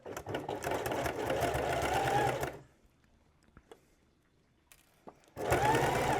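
A sewing machine stitches fabric for a DIY iPad case, running in a fast steady whir for about two seconds, pausing with small clicks and handling noises, then starting again at the end.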